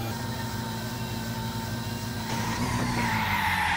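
A car in the video game My Summer Car skids at high speed, a continuous roaring engine drone with rising tire squeal toward the end, steady and close with no talking.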